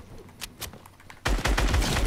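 Midas drum gun firing in Fortnite, a few separate sharp shots followed by a dense, loud burst of rapid automatic fire.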